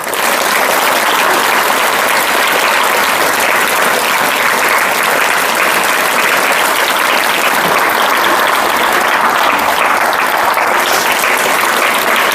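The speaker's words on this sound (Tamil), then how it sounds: "இப்போ கைத்தட்டுங்க பார்ப்போம்." An audience at a Tamil talk for parents and children claps together, a loud, dense burst of applause that holds steady for about twelve seconds with no voice over it.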